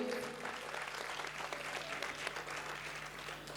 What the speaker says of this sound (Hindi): एक बार तालियों से आदेशित करिए।